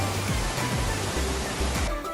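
Sarang Walet waterfall near Mount Rinjani on Lombok gives a loud, steady roar of falling water that fills the whole clip as a dense, unbroken rush.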